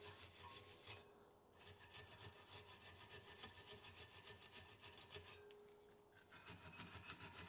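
Rapid rasping brush strokes scrub dust off the front brake pad anti-rattle clips on a 2015 Toyota RAV4 2.2 diesel, a quiet, steady scratching with two short pauses.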